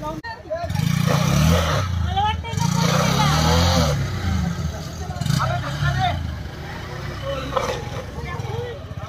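Motorbikes strain up a muddy road toward Rajmachi fort near Lonavala, their engines revving and droning steadily at close range while people talk over the noise.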